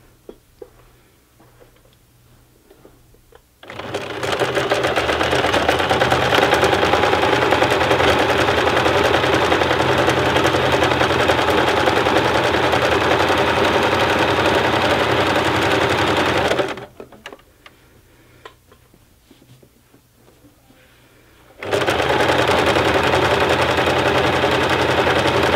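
A sewing machine stitches a bulky tote bag seam of about half an inch, running loudly and steadily for roughly thirteen seconds, pausing briefly, then starting up again.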